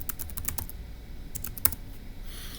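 Quick, light clicking of a computer keyboard in short bursts with brief pauses, close and fairly quiet.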